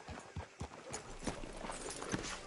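A horse's hooves clip-clop at a walking pace on hard ground in the video game Red Dead Redemption 2, a steady, fairly soft rhythm of close hoof strikes.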